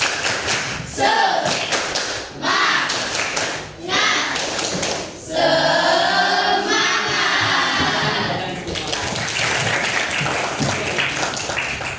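Students in a classroom perform a rhythmic spirit-clap routine, with repeated patterned bursts of group clapping, loud and close, and chanted voices joining in across several rounds.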